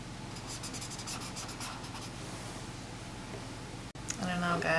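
Colored pencil scratches across sketchbook paper while leaves are drawn on a peach illustration, with close, steady, rapid strokes before a voice begins speaking near the end.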